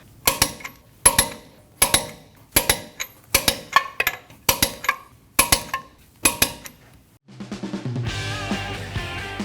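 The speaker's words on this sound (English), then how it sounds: "you need to torque them down to 131 foot-pounds" A torque wrench tightens lug nuts on a Nissan NV2500 van wheel, with about ten sharp, evenly spaced metallic clicks close by, followed by a different, denser mechanical sound at the end.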